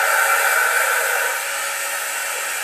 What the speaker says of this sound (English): When you're using a blower like this, you need to be in the free flow mode.